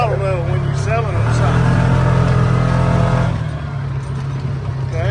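A Massimo Knight 500 4x4 utility vehicle's engine held at a raised throttle, a close, steady droning roar that eases off slightly near the end, with a voice talking over it.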